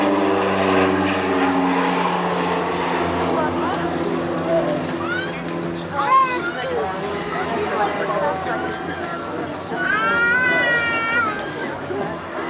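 A propeller aircraft at an air show at Biscarrosse drones steadily throughout, with higher whining tones and someone talking over it.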